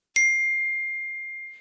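A phone notification ping: one clean, bright ding that rings out and fades smoothly over about a second and a half, alone with no other sound.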